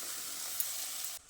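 Spice paste and a little water hitting hot oil in a pan, giving a brief, steady hiss of sizzling that cuts off abruptly near the end.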